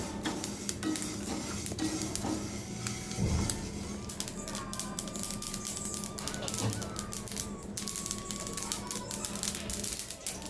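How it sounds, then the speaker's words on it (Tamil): Mustard seeds splutter and pop in hot oil while green chili pickle is cooked, giving a dense, continuous crackle of rapid sharp snaps close by, with faint kitchen noise underneath. "நல்லா பொறிஞ்சு வரும் கடுகு"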